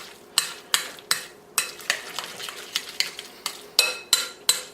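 Spoon or fork stirring guacamole with lime juice in a bowl, a dozen quick scraping clacks in a loose, uneven rhythm, close and fairly quiet.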